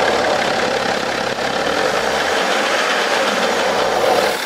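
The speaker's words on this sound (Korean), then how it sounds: "악셀 한번 밟아줘 봐봐." A BMW 5GT F07 engine revs steadily when the accelerator is pressed, a loud continuous mechanical drone with a faint repetitive knocking running through it and no talking.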